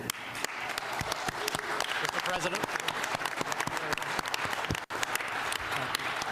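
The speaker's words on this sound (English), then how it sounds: "Everybody clap for the new president." A crowd applauds the president during a California wildfire visit, dense steady clapping throughout with someone speaking over it and a brief dropout near the end.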